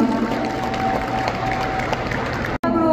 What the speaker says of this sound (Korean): 뜨거운 박수로 자리에 모시겠습니다.